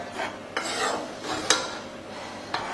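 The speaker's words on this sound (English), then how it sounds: "We're going to stir that in." Cream being stirred into tartiflette in a pan over gentle heat: a close, rhythmic scraping of spoon across the pan bottom with soft clicks at each stroke, no voices.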